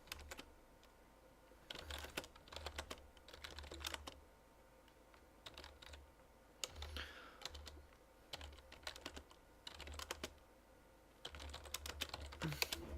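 Typing on a computer keyboard, bursts of soft rapid key clicks separated by short pauses, close but quiet.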